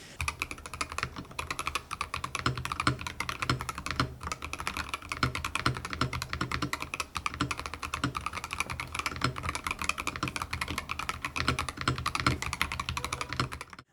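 Rapid, continuous typing on a cheap rapid-trigger mechanical gaming keyboard, crisp clacky keystrokes close by in a steady stream, with no voices.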